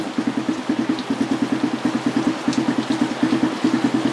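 Suzuki Satria FI 150 motorcycle engine running at a steady idle, a close, loud, rhythmic throb with evenly spaced pulses throughout and no talking.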